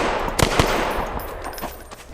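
Gunfire in the cartoon shooter Last Toon Standing: a few sharp shots in quick succession near the start, then a steady noisy game backdrop with scattered smaller pops.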